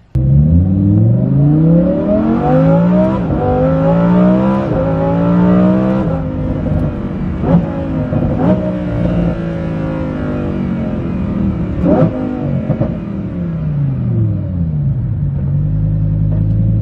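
A Lamborghini Huracan Performante fitted with a Kline Innovation exhaust revs repeatedly up and down close by, its loud engine note rising and falling in a series of swelling blips over a deep rumble.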